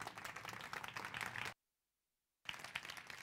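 An audience at a dog grooming seminar on American Cocker and Fox Terrier breaks into sustained applause, dense clapping that cuts out abruptly and then resumes just as strongly.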